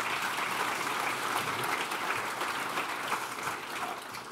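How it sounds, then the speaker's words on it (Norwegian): An audience applauds a speaker, Enova chief executive Nils Kristian Nakstad, at a meeting; steady, dense clapping fills the room at a constant level throughout, with no voices over it. "Gi han en applaus også"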